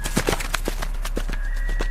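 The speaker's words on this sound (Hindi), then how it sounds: "उस सुनसान रात को केवल घोड़े के टॉप की आवाज चीर रही थी।" Horse hooves clip-clop steadily as a horse pulls a tonga cart through a deserted night, a quick irregular run of hoofbeats close by, with a faint whinny-like tone near the end.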